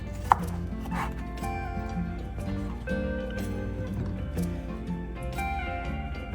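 A knife cuts soft pumpkin (kaddu) into cubes, giving a quick run of close, crisp taps against a board, irregular in rhythm, over steady background music.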